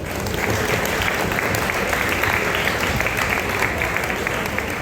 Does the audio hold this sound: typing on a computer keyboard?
no